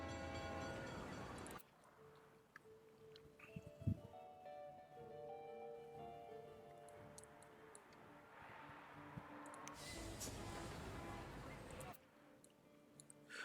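A train rolls through a SimCity city, with rail rumble, a horn-like tone and ticking game sounds under steady background music and occasional talk.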